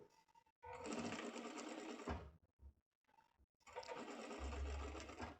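A sewing machine topstitching the lining of a vest with a buckle, running in two quick, close bursts of rapid stitching separated by a short pause with faint handling sounds.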